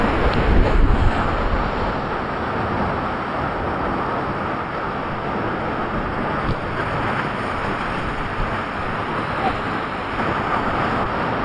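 Ambon-Ambon Falls in Alfonso, Cavite, a waterfall in Barangay Sta. Theresa, gives a dense, steady roar of rushing water that stays loud and unbroken throughout, with some wind buffeting at the start.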